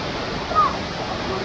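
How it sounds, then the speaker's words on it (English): Steady broadband rushing of Mantayupan Falls in Cebu, heard from a hanging bridge above, fills the background, constant and moderately loud, with no distinct splashes standing out. "And there's a waterfall underneath us."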